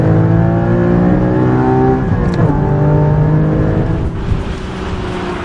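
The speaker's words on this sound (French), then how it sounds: "il y a un bouton qui permet de libérer encore un peu plus l'échappement et ça donne ça" Porsche Cayman GT4 flat-six engine with its exhaust valve opened by a button, giving a loud, steady, throaty drone that holds for several seconds and eases slightly near the end, with no talking.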